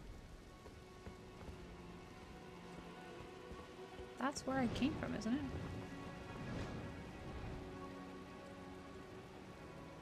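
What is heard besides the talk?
rain in the video game Elden Ring: Shadow of the Erdtree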